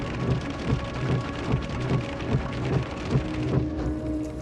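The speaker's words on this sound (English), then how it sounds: "In Parker, Indiana, news cameraman Wally Hubbard was caught in a hailstorm and forced to stop his car" Hail and heavy rain pound a stopped car during a tornado outbreak in Parker, Indiana, a dense, continuous clatter with low rumbling swells throughout, no voices.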